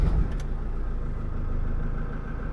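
Iveco Daily 2.3 diesel van engine catching after a brief crank and settling into a steady, close, even idle with a low rumbling pulse, no talk over it.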